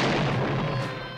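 A single heavy burst of movie-trailer gunfire booms close and loud, then decays over about a second.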